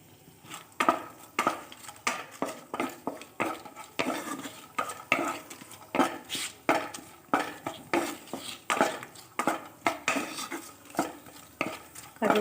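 Cashews fry over low gas while a utensil stirs them around the pan, giving a light sizzle broken by regular scraping and clinking strokes about once a second, close and with no talking.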